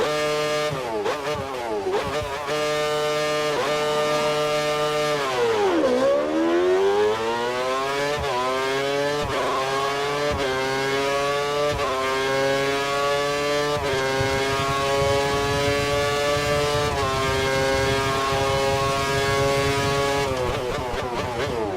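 An F1 car in the video game F1 2013, engine locked to a lean setting, screams up through the gears on track, its loud whining note rising in pitch after each shift over about twenty seconds.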